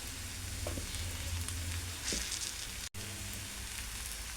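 Ivy gourd curry frying in a pan gives a steady, dense sizzle with light spattering and occasional stirring scrapes, close and continuous, broken only by a brief dropout near the end.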